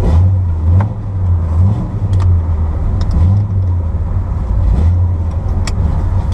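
A C3 Corvette engine drives on a street, a loud close rumble that rises and falls as the car accelerates in repeated waves, with no talking.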